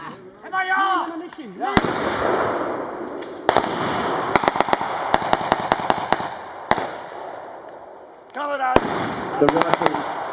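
Reenactment gunfire from M1 Garand rifles as paratroopers battle at Higgin's Park: sharp, loud shots in scattered bursts and rapid strings over a rumbling background, with voices calling out at the start and near the end.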